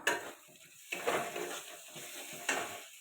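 Spiced masala with cumin powder stir-fried in a pan for egg curry, a spatula scraping and clinking against the pan in quick irregular strokes over a soft sizzle.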